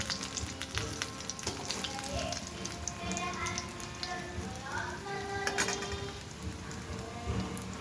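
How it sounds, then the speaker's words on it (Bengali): Eggplant and potato chips deep frying in hot oil give off a continuous dense crackling sizzle, steady and close throughout with no clear talking. "তাহলে মুড়মুড়ে হবে বেশি বেশিক্ষণ ধরে ভাজতে হবে"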